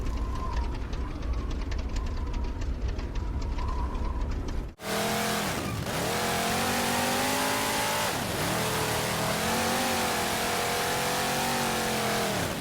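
Warthog vehicle engine from the video game Halo 4, kicking in abruptly after a quiet stretch and then revving loud and steady, its pitch dipping and climbing several times.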